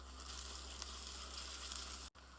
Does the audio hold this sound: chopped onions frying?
yes